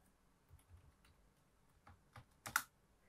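Someone types on a computer keyboard in a quiet room: a few soft, scattered key clicks, then a brief flurry and a louder final keystroke like Enter being pressed.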